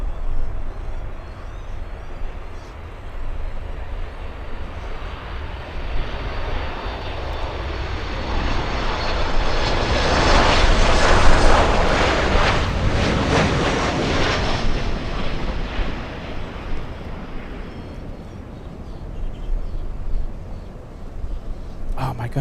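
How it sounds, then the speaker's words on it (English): A TAP airliner lands on runway 12 at Miami International Airport, its engine roar building to a loud peak mid-pass and then fading, heard from the spotting position with occasional voices nearby. "Okay, so it looks like TAP will be landing on runway 12."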